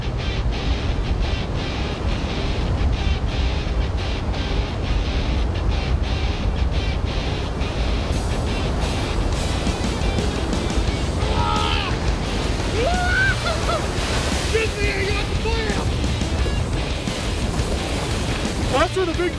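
Ocean surf rolls continuously onto a beach where razor clams are dug, a steady broadband wash of waves with wind, occasional crow calls and faint voices.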